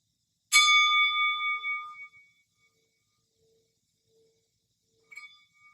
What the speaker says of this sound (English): I have here a Tibetan singing bowl,